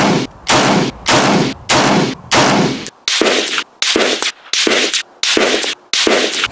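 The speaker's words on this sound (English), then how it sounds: "Might as well shoot up some of this surplus ammunition." An M1A SOCOM rifle fires surplus ammunition at a steel target on a 200-yard range: about ten loud, sharp shots in a steady rhythm, each followed by a brief echo.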